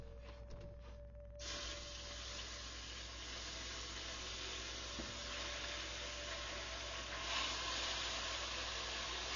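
Protein hits a hot cast iron pan and a broad, steady sizzle bursts in after a quiet moment, continuing evenly for several seconds at low volume with no talking.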